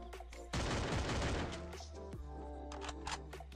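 Gunfire in the Free Fire video game: a sharp shot followed by a dense, rapid burst of close automatic fire lasting about a second, then scattered lighter shots and game sounds over a steady low hum.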